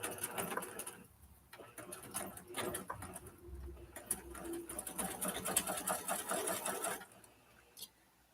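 A home sewing machine stitching a seam runs in fast steady bursts, close and clear, slowing and pausing briefly between runs before stopping near the end.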